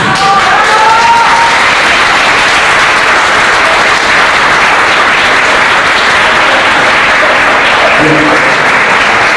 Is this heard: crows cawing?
no